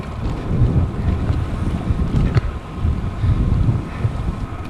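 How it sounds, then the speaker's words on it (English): Heavy wind buffets a microphone as a cyclist coasts downhill on a road near the Humber Bridge, a continuous low roaring rumble that swells and eases throughout, with no speech. "You can just let the wind blow you all the way down the road."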